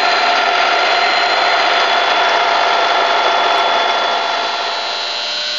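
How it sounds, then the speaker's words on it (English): An Ikeda RM-1875 radial arm drill press, new in 1990, runs at its maximum 1500 RPM with a steady, loud mechanical whir and hum that holds level throughout, with no talk. "Here we're showing the drill at 1500 RPM,"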